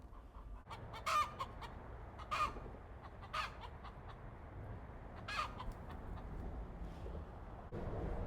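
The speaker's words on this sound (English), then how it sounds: "I think my chickens are fighting." Chickens squawk and cluck in sharp, scattered bursts, several loud harsh calls rising over a steady background hum, like birds scuffling nearby.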